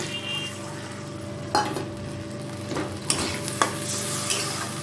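Spice paste for a rohu fish curry sautéed in a pan, with its grinding water added, giving a continuous close sizzle broken by a few distinct scrapes and clanks of a spoon against the pan.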